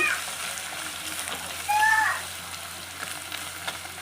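Spice mixture of chilli powder, salt and juice frying in a pan, a soft continuous sizzle with light stirring scrapes and a brief squeaky scrape near the middle.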